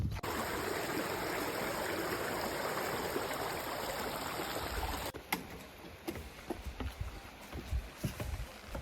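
A creek swollen full by heavy rain rushes along the Appalachian Trail, loud and continuous at first, then cutting to quieter water with scattered knocks and footsteps.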